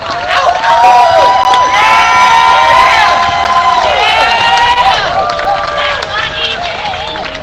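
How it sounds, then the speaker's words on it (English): A rally crowd in Jacksonville, Florida, erupts in loud, sustained cheering and applause, with whoops and high shouts rising above steady clapping for the whole stretch. "let's give a thunderous round of applause for Regina Livingston"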